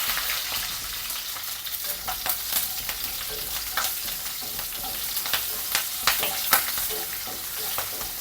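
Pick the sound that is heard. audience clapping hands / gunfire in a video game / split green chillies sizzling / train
split green chillies sizzling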